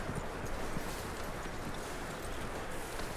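Horse hooves clip-clop in Red Dead Redemption 2, a dense continuous patter of steps under broad game ambience, no talk.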